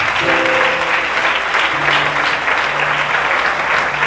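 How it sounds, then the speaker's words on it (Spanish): Church congregation clapping in praise during a service in Guatemala, steady dense applause filling the room throughout, with faint tonal sounds underneath. "Le damos palmas a Cristo."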